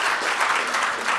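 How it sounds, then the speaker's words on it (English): Dense audience applause for Lupita at an anniversary gathering, a loud, continuous wash of many hands clapping together with no talk over it. "Round of applause for Lupita,"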